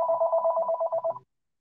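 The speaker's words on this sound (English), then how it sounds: "Sorry about the phone." A telephone rings with a steady warbling electronic tone that pulses in quick repeated beats for just over a second, then cuts off abruptly into silence. It is close and clear, and no voices are heard.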